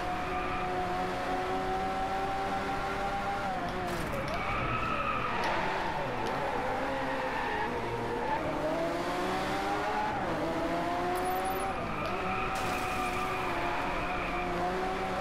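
A Lamborghini Aventador LP 720-4 races in the video game DRIVECLUB, its engine droning loud and continuous with rising and falling revs through gear changes, and brief tire squeals along the way.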